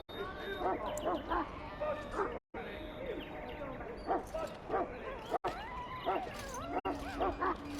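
Mabari war hound from the Dragon Age: Origins video game, barking and yipping in short repeated bursts with whimpers, close and moderately loud, with brief silent gaps between phrases.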